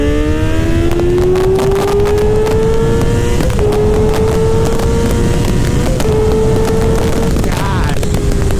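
A 2024 Kawasaki motorcycle engine with a Moore Mafia ECU flash tune, loud and close, winding up steadily in pitch toward a high redline and holding there with brief dips and a few sharp pops.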